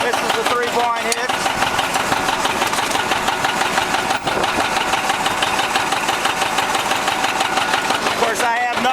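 A 1957 John Deere 720 diesel tractor with electric start runs at plow speed, its loud, steady engine rumble close by and unbroken throughout.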